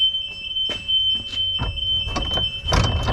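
A Walker lawn mower's grass-catcher-full warning beeper sounds as a steady high electronic tone. Several clicks, clunks and a low mechanical rumble come from nearby handling of the machine.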